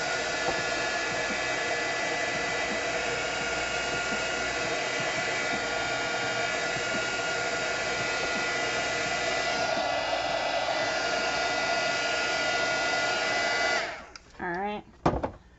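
Hair dryer blowing on a wet decoupage envelope, a steady loud whooshing hum running continuously for about fourteen seconds before switching off, with brief handling noises after.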